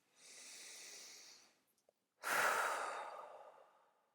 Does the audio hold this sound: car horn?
no